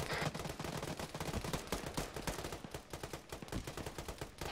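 Anti-aircraft gunfire in the ARMA 3 military video game forms dense, continuous rapid bursts of loud shots with rattling impacts, filling the whole stretch without any talk.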